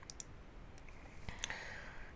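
A computer mouse gives a few faint, quick clicks close by, with brief taps scattered over a quiet background.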